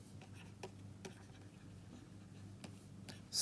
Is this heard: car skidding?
no